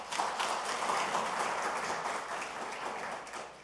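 Audience applause welcoming a social welfare professor to the podium at a policy forum, a dense, steady wash of many hands clapping that holds for a few seconds before easing slightly, with no voices over it.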